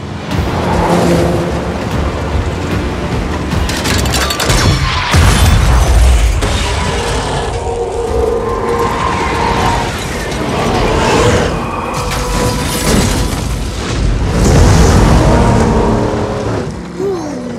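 In an action scene from the film Fast X, a cannon car launches and crashes. Loud booms, roaring engines and metallic impacts pile into a dense, continuous barrage with several heavy hits.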